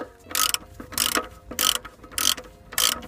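A ratchet cracking loose the 21mm sump nut on a Ford Focus C-Max, heard up close as five short bursts of sharp clicking at an even rhythm, with brief quiet gaps between strokes.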